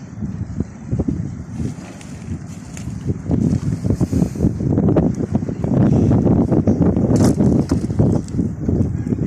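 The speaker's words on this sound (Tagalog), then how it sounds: "Sarap na simoy ng hangin." Steady wind rushing and buffeting, loud and continuous, with gusty rumble throughout and no voices.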